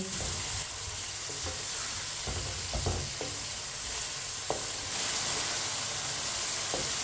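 Cauliflower and peas frying in a pot for a mixed vegetable pulao, a continuous hissing sizzle with occasional soft knocks and scrapes of a spoon stirring, close and steady throughout.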